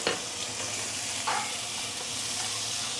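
Freshly cut herbs sauté in hot vegetable oil for a pickled vegetable and pork belly soup, giving a steady close sizzle and hiss with a couple of brief stirring clatters and no talk.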